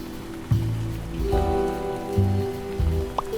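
Pouring rain in the Figment 2 video game, a steady hiss and patter running throughout beneath low, sustained musical tones.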